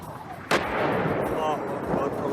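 Artillery shelling from a film about a city under regime bombardment, with one sharp heavy blast followed by a rumbling, noisy aftermath and a fainter second impact, loud and close.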